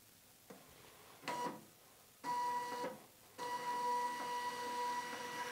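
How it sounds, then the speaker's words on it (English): A Zebra ZT411 barcode printer initializes after a factory reset, with short mechanical whirring bursts followed by longer motor runs carrying a steady electronic tone, close and moderately quiet. "The printer is now going through a full initialization"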